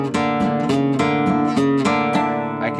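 Flamenco alzapua thumb strokes on a nylon-string guitar, rapid rhythmic down-and-up strums alternating with single notes in a steady driving pattern, loud and close with no talk.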